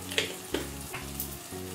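Spice paste of coriander, cumin, turmeric and Kashmiri chilli powders fries in a pan after a splash of ginger water, giving a close, steady sizzle with a few brief spattering pops.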